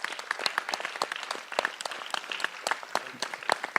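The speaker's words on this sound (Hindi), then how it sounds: "मोहम्मद फैजान भाई, जोरदार तालियां होनी चाहिए इनके लिए।" A theatre audience claps for the actor who played Shankaracharya in the play Shivoham in Bhopal, with distinct individual claps standing out in a lively, uneven burst of applause.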